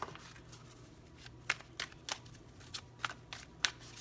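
Wisdom of the Oracle deck cards being shuffled by hand, a run of quick crisp riffling flicks and soft slaps, close and fairly quiet, with no voices.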